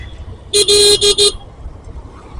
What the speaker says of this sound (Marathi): इथे सतत हॉर्न द्यावं लागतं